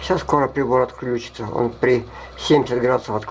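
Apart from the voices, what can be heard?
No everyday noise stands out behind the speech.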